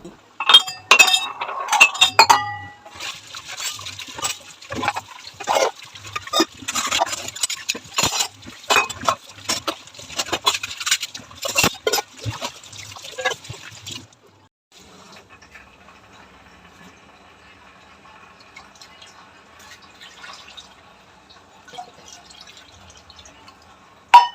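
Soaped dishes are rinsed at a sink: dense clinks and knocks of glass and steel ring out for about fourteen seconds, then water trickles and drips more quietly with occasional light taps.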